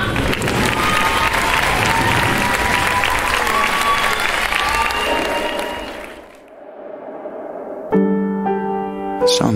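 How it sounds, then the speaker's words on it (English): An audience at a pole dance show applauds loudly for the performers, dense clapping and some cheering lasting about six seconds before fading out, followed by a brief hush and then music starting. "On les applaudit bien fort!"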